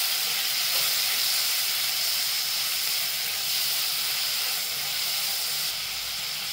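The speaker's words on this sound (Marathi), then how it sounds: "टोमॅटो पण परतून घेते।" Tomatoes and onion sauté in a pan for a spiced brown rice dish, giving a steady, bright sizzling hiss that stays close and even throughout, with no talking.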